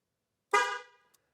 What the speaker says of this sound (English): Hear that horn honk? That means it's paired